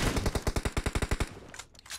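Rapid bursts of AKM rifle fire from PUBG Mobile, about a dozen sharp evenly spaced shots in a fast automatic rhythm, loud and close, then a few fainter scattered sounds.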